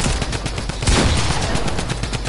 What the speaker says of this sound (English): I'm just gonna shoot her.